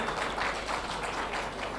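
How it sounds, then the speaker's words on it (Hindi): A roomful of people applaud loudly at an awards ceremony, a dense wash of clapping that stays strong throughout, with speech mixed in. "एक बार जोरदार तालियां हो जाए"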